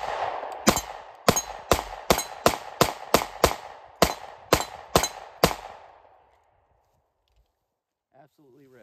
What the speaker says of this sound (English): this is an awesome shooting handgun